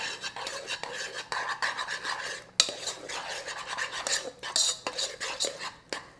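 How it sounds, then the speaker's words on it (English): Candy mixture in a pot being stirred after coming off the heat, a spoon scraping and rubbing steadily against the metal with repeated rasping strokes, close and fairly loud, no voices. "start stirring"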